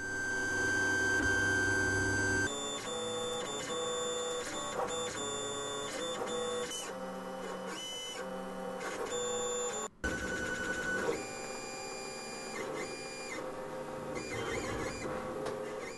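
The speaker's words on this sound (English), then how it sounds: "Using a 3D printer, we can print a small part in less than an hour." Steady mechanical whirring of a 3D printer printing a small plastic part, with high tonal whines and shifting motor pitches, continuous and fairly loud, briefly cutting out near the end before resuming.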